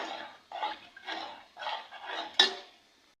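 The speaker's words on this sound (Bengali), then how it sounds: "এখন অনবরত নাড়তে থাকবো।" Chicken soup being stirred continuously in a pot, with a spoon scraping and clinking against the metal in several steady strokes, close and moderately loud, ending with one sharper knock.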